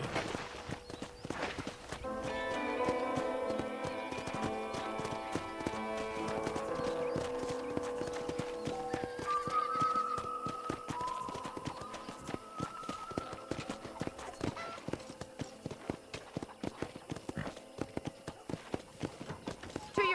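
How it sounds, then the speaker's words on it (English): Steady clip-clop of horse hooves at a walking pace on a ranch in the video game Red Dead Redemption, rhythmic and close, over a gentle musical backdrop with a few melodic tones. "let's see if you can still ride a horse."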